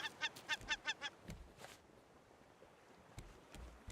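A bird in an ocean fishing video game squawks in a quick run of about six sharp, honking calls. The calls are close and clear, then give way to faint background ambience with a few soft knocks.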